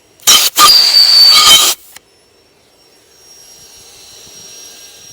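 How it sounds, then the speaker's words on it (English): Earlex 6700 paint sprayer turbine roars loudly for a second or so, stutters, then shuts off, leaving a faint whining run-down and quiet room hum. "Alright, let me turn off that turbine."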